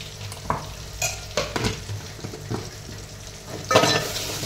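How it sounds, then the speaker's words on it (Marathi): Spices with homemade Kolhapuri red chili powder and Kashmiri chili fry in hot oil, a soft steady sizzle broken by several scraping stirs of a spoon in the pan, close up. "मस्तपैकी असं तेलामध्ये परतायचं"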